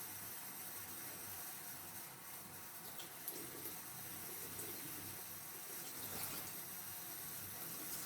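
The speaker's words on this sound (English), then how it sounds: "Just listening to the sound of the water." Water runs steadily from a kitchen tap into a sink, a continuous close rushing stream with no talking.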